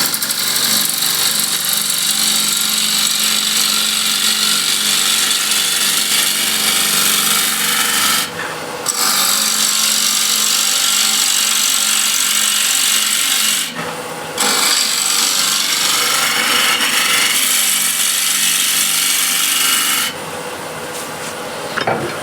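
Woodturning a bowl on a lathe with a 16 mm bowl gouge, a loud continuous rasping scrape of the tool cutting wood, interrupted by two brief pauses.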